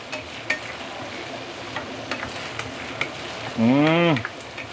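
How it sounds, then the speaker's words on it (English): Vegetables are stirred in a pan of sweet and sour sauce for fish, giving a soft steady sizzle with light scraping taps throughout, close and fairly quiet, before a brief spoken phrase near the end. "Now is the time where we can put in all the veggie."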